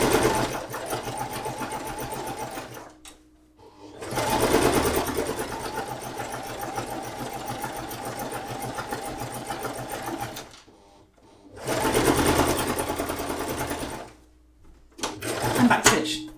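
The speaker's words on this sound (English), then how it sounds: "then we're going to do a few centimetres, back stitch, then a straight line." A sewing machine stitches shirred fabric for a summer mini dress, running in long steady bursts of rapid mechanical whirring with short pauses between runs, close up.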